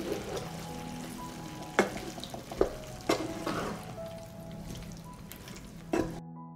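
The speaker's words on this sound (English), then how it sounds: "I will stir and fry for another 5 minutes." Vegetables frying with red sweet ground pepper in a pan, a steady low sizzle broken by several sharp scraping stirs of a utensil, close by, with no voices.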